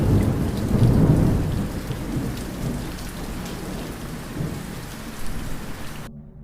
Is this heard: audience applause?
no